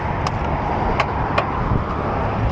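A Ferrari 348 with a modified exhaust roars steadily and loudly, its engine held at high revs, with a few sharp clicks riding on top.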